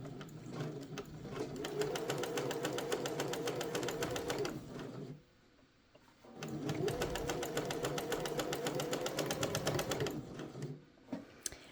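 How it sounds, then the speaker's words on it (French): A domestic sewing machine stitches bias binding along a shirt placket slit in slow, small stitches, running steadily in two long bursts separated by a brief pause, with no talking. "je commence à coudre doucement à petits points pour positionner mon biais le long de la fente"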